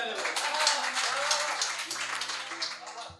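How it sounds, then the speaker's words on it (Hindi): Audience at a poetry performance giving loud applause: a dense, continuous wash of clapping that swells and then tapers off, with a voice audible underneath. "एक बार आप सब अपने लिए जोरदार ताली बजा लें"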